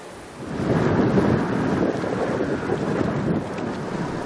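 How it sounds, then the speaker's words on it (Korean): Strong wind roars over the sea off a Korean coast where women divers work, a loud continuous buffeting rush with no voices. "오늘따라 바람이 세차게 부 붑니다."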